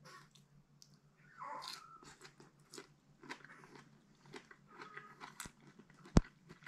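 Wild bamboo shoots, cooked, being bitten and chewed at close range, giving soft crunchy mouth sounds and several crisp bites, with a sharp loud crunch near the end.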